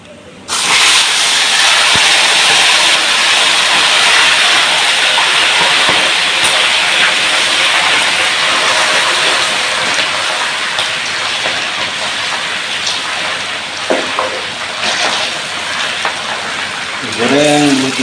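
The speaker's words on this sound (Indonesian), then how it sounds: "Goreng belutnya." Eel pieces fry in hot oil, making a loud, dense and continuous sizzling hiss that runs close and steady throughout, easing slightly toward the end.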